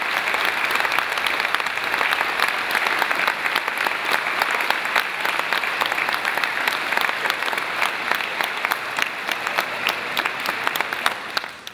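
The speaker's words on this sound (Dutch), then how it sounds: "vraag ik alle mensen hier in de kerk om jullie nu al te feliciteren door heel hard te klappen." A congregation in a church claps hard to congratulate children at a first holy communion Mass, a long, even roar of many hands that holds steady from start to finish.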